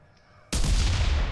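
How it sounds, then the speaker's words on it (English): A frag grenade exploding in the Cuisine Royale game, a sudden loud, close blast after a quiet lead-in, its heavy roar sustained and slowly decaying to the end. "Throwing frag!"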